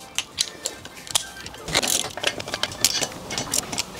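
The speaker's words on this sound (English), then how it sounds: "so let's torque them up" A torque wrench tightens the rear wheel bolts of a motorcycle during a tyre change, giving scattered metallic clicks and scrapes with a cluster of sharper clicks in the middle, fairly close and with no talking.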